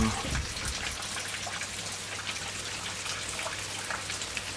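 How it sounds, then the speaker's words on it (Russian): Heavy rain pours down in a steady, dense hiss that fills the whole stretch without a break, loud and continuous with a faint low hum underneath. "Дождик идет. Ливень."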